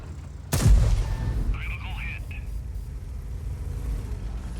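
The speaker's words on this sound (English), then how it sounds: "Okay, he's firing back" In a tank video game, a tank gun fires once with a sharp loud boom that decays into a rumbling tail, followed by engine hum and faint game effects.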